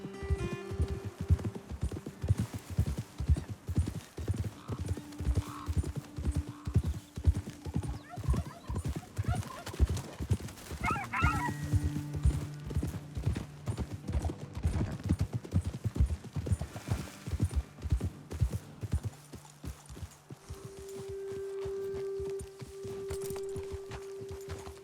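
Horses in the video game Red Dead Redemption 2 clip-clop steadily along a trail for about twenty seconds, the hoofbeats close and continuous under the riders' talk and gentle music. The hooves fall quiet near the end.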